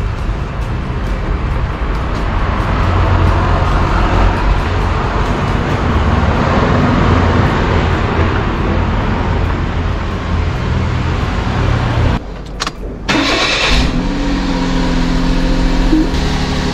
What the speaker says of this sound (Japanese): とりあえずこれでねエンジンかけます。